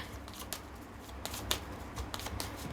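Tarot cards shuffled by hand, a series of quiet riffling bursts and crisp snaps at an uneven pace, close but faint.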